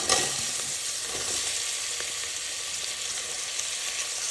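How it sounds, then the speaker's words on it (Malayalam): Sliced onions frying in oil in a pan for chicken kurma, a steady close hissing sizzle that fills the whole stretch, with a few soft stirring scrapes near the start. "രണ്ട് ഉള്ളി ഞാൻ കട്ട് ചെയ്ത് വെച്ചതൊന്ന് ഇട്ട് കൊടുക്കാം."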